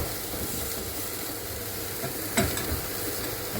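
Onion and garlic frying together in a pan while being stirred, a steady soft sizzle with a brief scraping stir partway through, heard alone at moderate volume.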